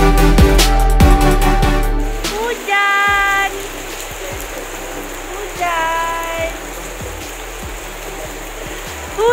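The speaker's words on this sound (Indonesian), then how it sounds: "Dah hujan lah." Rain pours down at Taman Tasik Seremban lake park, a constant loud hiss of falling water, while people talk in short bursts over the downpour.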